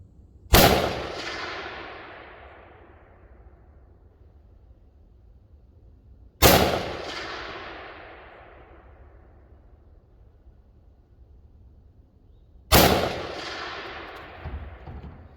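Bushmaster HBAR rifle fired during zero testing: three loud, sharp shots spaced about six seconds apart, each followed by a long fading outdoor echo.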